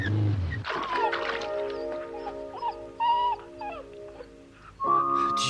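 A frightened dog whimpers after a scare, giving thin, wavering cries and whines that come and go over several seconds, close by, with no talk.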